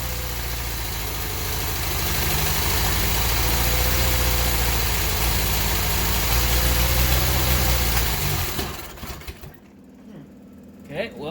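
A 1972 Fiat 850 Spider engine idles at about 1,500 RPM with a steady, buzzing mid-pitched hum close by, then cuts out and leaves faint handling noises.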